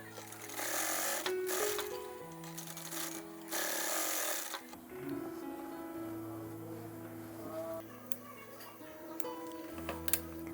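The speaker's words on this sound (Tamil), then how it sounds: "எப்பவும் ஷோல்டர் ஜாயிண்டில் நம்ம 2 தையல் போடுறோம்." A sewing machine stitches a blouse shoulder seam in two short, fairly close whirring bursts, followed by quieter ticks and handling noises with soft background tones.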